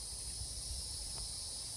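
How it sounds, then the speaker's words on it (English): Cicadas drone steadily outdoors among trees on a breezy day, a continuous high, faint buzzing with no voices present. "Listen to the cicadas, listen to the birds."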